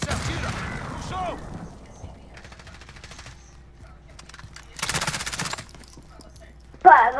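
Rapid bursts of automatic gunfire from Call of Duty: Warzone, crackling at a distance in short volleys, then a louder nearby burst near the end, with a brief voice at the start.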